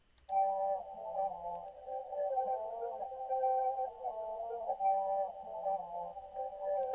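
Reversed vocal sample pitched down in a Drake-style Certified Lover Boy beat: a sustained, warbling mid-range tone with shifting harmonics, steady and fairly quiet for several seconds, with no drums.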